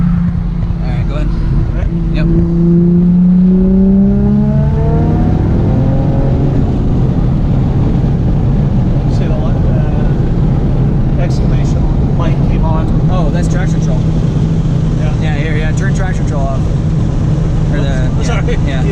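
A 2001 Audi B5 S4 with Tial 770 turbos, running 91 fuel with methanol injection, accelerating hard in third gear during a tuning pull; a loud, steady engine roar with rising tones fills the cabin while people talk over it.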